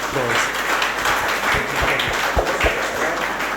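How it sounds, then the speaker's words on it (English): An audience at a book launch gives a round of applause for an organiser, dense clapping with some murmuring voices mixed in. "Let me have a big round of applause"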